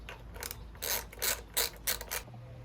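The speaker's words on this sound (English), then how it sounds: "So I'm just gonna tighten this airbox back on here." The airbox on a Predator 212 minibike engine is tightened with a ratchet, giving five quick, close ratcheting bursts in a row with no talk.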